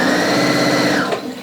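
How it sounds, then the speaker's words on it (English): Sewing machine stitching down cuddle fleece, a close, loud, steady whirring hum with rapid needle chatter that slows and stops after about a second. "I'm just going to stitch down"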